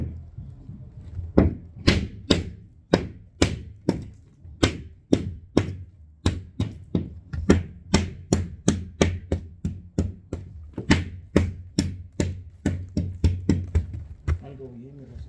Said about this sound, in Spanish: A la otra le vamos a meter un pinche martillazo.